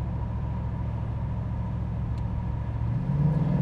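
A 1988 Chevrolet Monte Carlo SS cruises down a straightaway, its engine giving a steady low drone and road rumble that swells slightly near the end, with no talking.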